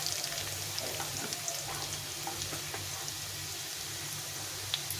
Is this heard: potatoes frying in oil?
yes